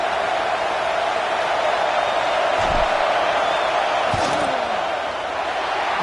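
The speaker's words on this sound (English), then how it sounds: "This crowd trying to do its part to get inside the kicker's head." Football stadium crowd in a Madden video game, a loud continuous roar and din building to distract the kicker before a field goal try, steady throughout with brief thumps, under no clear talk.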